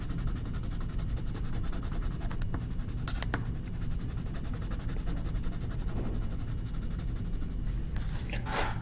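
A marker scratches steadily across paper as a black area of a hill drawing is colored in, a continuous close, soft scribbling texture with a few brief louder strokes.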